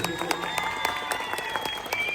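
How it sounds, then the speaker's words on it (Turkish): Applause from an audience at a Kurdish-Turkish gathering in Mardin, a brief steady patter of clapping with faint sustained tones and some voices mixed underneath. "Medine'ye kuvvetli bir alkış."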